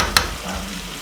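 Vegan rasta pasta is stirred in a full pot, a brief wet scrape and soft squelch with a sharp clink of utensil against the pot near the start, close by and with no voices.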